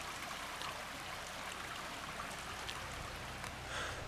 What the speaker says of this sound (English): this beautiful little stream